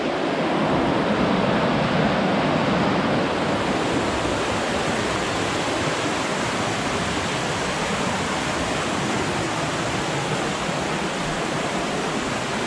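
Rushing river water right beside the Appalachian Trail on the Roan Highlands to Hampton, Tennessee stretch, a loud, close, continuous broadband roar with no breaks and no voices.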